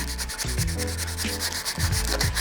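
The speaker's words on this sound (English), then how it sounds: "So just gotta get them by hand a little bit" A car bumper is sanded by hand in close, rhythmic back-and-forth scrubbing strokes that repeat steadily and loudly with no talk.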